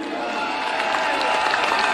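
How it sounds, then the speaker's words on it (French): An indoor audience at a French entertainment-industry event gives sustained applause with cheering. The thick crowd noise stays fairly even for about two seconds, with a faint voice mixed in. "Je vous prie de faire un tonnerre d'applaudissements pour Thomas Séraphite."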